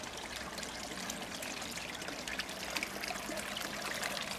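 Water trickling gently into a garden quarantine pond on a calm evening, a soft continuous babble and splash heard faintly and steadily throughout, with no voices.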